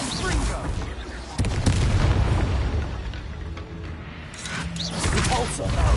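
Confringo blasting spell explosions in the Hogwarts Legacy video game, loud booming bursts amid dense combat noise, with a voice shouting spell names over the blasts.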